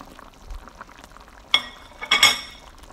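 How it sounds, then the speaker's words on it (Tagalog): Carrot and potato pieces drop into a pot of simmering chicken curry with a few clinking, splashing thuds, first a single hit and then a quick cluster, over a faint bubbling background. "Isusunod na po natin ang ating carrots at ang ating pong potato. Yan po, ilagay na po natin."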